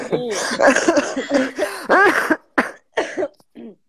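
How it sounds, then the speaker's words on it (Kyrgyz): Several close, sharp coughs break up a Kyrgyz-language conversation, coming in short irregular bursts with brief pauses between them. "мен да ошону жөтөлүп атам"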